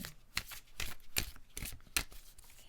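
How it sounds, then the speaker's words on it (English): Cards are shuffled in quick riffling bursts, several short rushes in a row, close and quiet, with no voices. "I want to shuffle the card 3 times"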